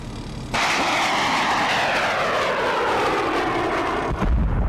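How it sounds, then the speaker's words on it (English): Javelin missile launched at a Taliban position in Afghanistan, a sudden loud roaring rush that sustains and slowly fades for several seconds, ending with a low thump, no voices. "They immediately sight the enemy with one of their Javelin missiles."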